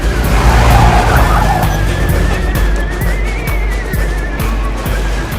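A car racing at speed on a road with tires squealing and skidding, a steady loud engine roar and a wavering high squeal over heavy low rumble and knocks, no talk.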